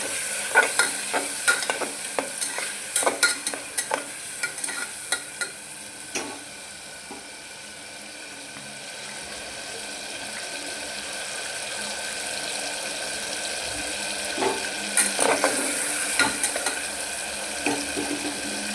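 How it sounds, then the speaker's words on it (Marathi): A spoon scrapes and taps repeatedly as turmeric with tomato is stirred in a frying pan, with a steady low sizzle underneath and a quieter stretch in the middle. "मग त्याला आपण हलवून घेऊ"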